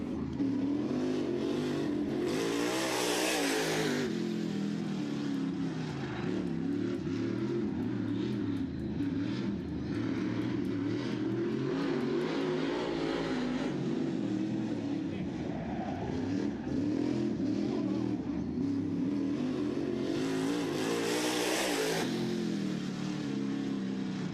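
Late model race car, number 87, running a qualifying session at a short-track memorial race, its engine droning steadily with rising and falling revs throughout, with a louder surge near the start and again near the end, under continuous commentary.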